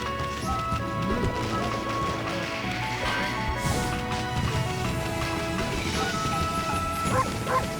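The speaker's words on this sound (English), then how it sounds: "Bark, bark, bark, bark, bark, bark, bark," A dog barks repeatedly in the video game Okami HD, quick yipping barks in a busy game soundscape with music and hoofbeat-like clatter, no speech.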